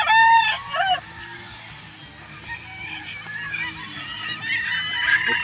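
A young gamecock, a bull stag, crows loudly and close at the start, with more crowing and other fowl calls following through the rest, all fairly near and without speech.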